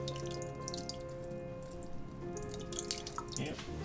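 Red wine vinegar trickles into a pan of cranberry sauce in a steady, splashy stream with soft drips, close and fairly clear.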